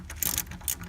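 Ratcheting clicks from a wrench turning a 7 mm nut loose on a Lada Kalina, a few quick close metallic bursts with short pauses between them and no talk.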